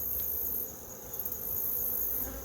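Honey bees buzz faintly and continuously while beehives are being combined, a thin, steady drone with brief flickers of wingbeat, heard from a slight distance.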